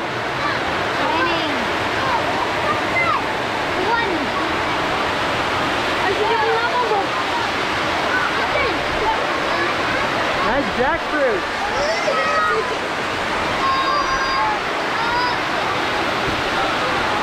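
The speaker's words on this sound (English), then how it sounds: "it started pouring down rain" Heavy rain pours down steadily outdoors in a Philippine village, a dense continuous hiss with voices talking faintly underneath throughout.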